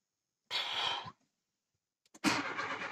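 A car that has just had its head gasket replaced cranks briefly, falls silent, then catches and starts on the second try, settling into a steady close idle.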